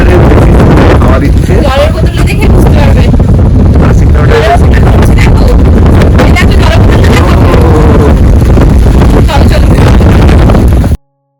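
Strong storm wind of around 60–80 km/h in a hill village in Kalimpong, a loud, steady roar buffeting the microphone throughout, with a voice faintly audible beneath it.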